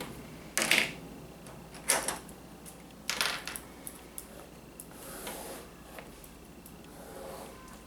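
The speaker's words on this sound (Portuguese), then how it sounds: "Eu vou desenhar aqui o retângulo." Marker or chalk drawing a rectangle on a board during a math lesson, three or four short scraping strokes at a steady pace, fairly close, then quieter rubbing.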